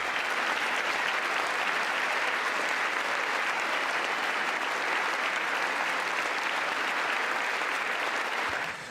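Audience applause during a State of the Union address fills a large chamber, a steady and even wash of clapping from many hands that continues for nearly nine seconds before tapering.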